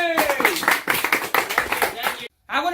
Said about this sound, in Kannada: ಹಾಗೂ ನಿಮ್ಮೆಲ್ಲರ ಚಪ್ಪಾಳೆ ಮೂಲಕ ಕಾರ್ಯಕ್ರಮವನ್ನು ಶುರು ಮಾಡೋಣ ಚಪ್ಪಾಳೆ